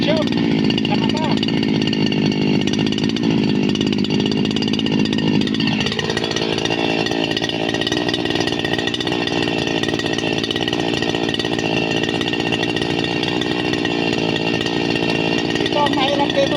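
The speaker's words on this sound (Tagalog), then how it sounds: "Kailangan muna natin i-start ang ating grass cutter." A gas grass cutter runs steadily and loudly close by while clearing overgrown coffee plants, its engine note dipping and shifting as it bites into the brush, with someone talking over it.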